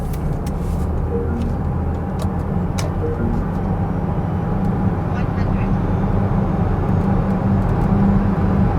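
An MG S9 PHEV plug-in hybrid SUV accelerating from 80 to 120 km/h as if overtaking a truck, heard from inside the cabin as a steady low engine and road drone with tyre roar that swells slightly toward the end.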